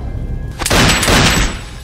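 Gunfire from an action film shootout: after a quiet start, a loud burst of overlapping shots and booms erupts and rolls on as a dense, sustained fusillade.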